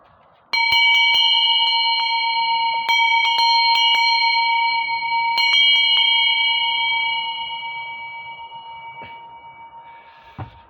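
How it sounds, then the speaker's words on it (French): A bell rings loud and close with a series of bright metallic strikes in irregular clusters, each tone sustaining and blending into a long shimmering hum that slowly fades over several seconds. "Ah, ben c'était une cloche."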